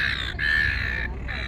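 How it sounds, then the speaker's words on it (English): Two loud, drawn-out raucous seagull calls close by near Luna Park in Sydney, separated by a short gap, over a low background hum. "And seagulls."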